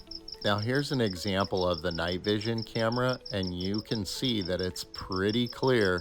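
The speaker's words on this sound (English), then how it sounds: "you can also hear the audio of that cricket in the background" Crickets chirp at night through a Eufy E220 outdoor security camera, a steady pulsing high-pitched trill running faintly in the background under someone talking.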